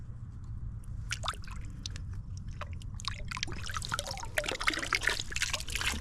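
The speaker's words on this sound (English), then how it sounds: "Let's rinse it off just a little." Water trickles and splashes close by as an antique Dr. Pepper bottle, dug from a creek and made in Tennessee, is rinsed, a steady wet dribbling that grows busier and louder toward the end.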